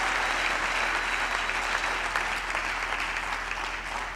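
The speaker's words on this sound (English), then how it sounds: "A round of applause for our grandparents" Sustained applause fills a graduation ceremony hall, a steady dense clapping from a large audience that holds evenly throughout and tapers slightly at the end.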